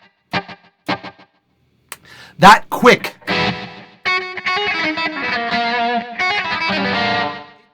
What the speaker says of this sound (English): this is a kind of delay that you can leave on because it sounds more like reverb